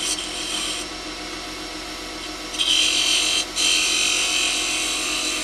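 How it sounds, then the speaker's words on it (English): A detail gouge cutting a small wooden hollow form spinning on a lathe, a continuous close scraping hiss that rises sharply at times as the tool bites deeper. "I need some room to get that detail gouge in here."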